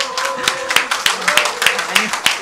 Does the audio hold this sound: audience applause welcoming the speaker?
yes